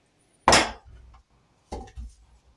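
Button mushrooms are cut on a cutting board in a kitchen, with two sharp close knocks of the knife striking the board, followed by a few softer taps and quiet pauses, no voices.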